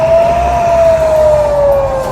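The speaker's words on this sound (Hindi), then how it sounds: "इस दौरान गाजा में लगातार सायरन बजता रहा।" A siren wails continuously over Gaza during an attack, one long sustained tone that slowly slides lower in pitch, loud and steady without a break, with a low rumble of traffic or engines beneath it.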